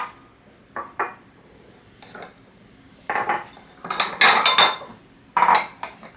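Pottery bowls knock and clink against one another and dishes as a kitchen cupboard is cleared out, a series of close, uneven ceramic clatters that grow busier and louder toward the end.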